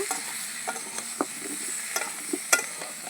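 Raw banana pieces with turmeric fry in oil in a pan, giving a steady soft sizzle. A spoon scrapes and clinks irregularly as the pieces are stirred, close by.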